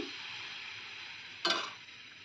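Patishapta batter, a Bengali milk-filled crepe for Poush Sankranti, ladled onto a hot griddle: a steady soft hiss fills the clip, with a sharp louder sizzle bursting up briefly near the end as the batter hits the pan.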